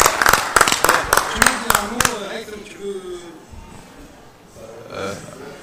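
A small group applauds right after a franchise contract is signed, a few seconds of loud, brisk clapping that stops abruptly and gives way to people talking.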